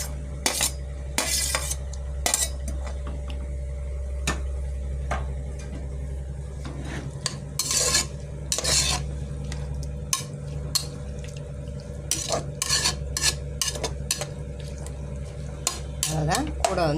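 Greens with onion, green chili, garlic and tomato are stirred in a pan with a little oil, giving repeated sharp metallic spatula scrapes and clinks in an irregular rhythm over a soft sizzle and a steady low hum.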